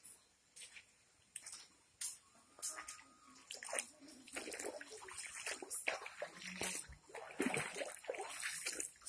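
Water splashing and sloshing at a waterfall as someone wades through it, irregular splashes and drips of varying loudness against a faint trickling background, growing busier toward the end.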